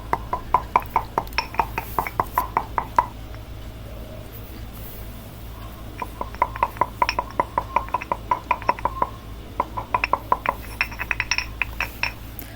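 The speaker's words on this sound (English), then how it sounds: "Let's start by preparing the cardamom powder and fennel powder using a mortar and pestle" Cardamom and fennel pounded in a mortar and pestle: close, crisp clinking strikes in quick rhythmic bursts, with a short pause between runs and no voices.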